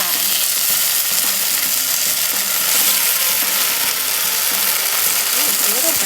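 Turnip and taro cakes fry in a pan, giving a loud, steady, close sizzle and crackle of hot oil that runs unbroken throughout.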